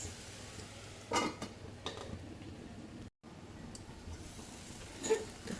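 Spiced tindora (ivy gourd) sabzi being stirred in a pan, with faint, close scrapes and light clinks of the spoon against the metal over a low background hiss.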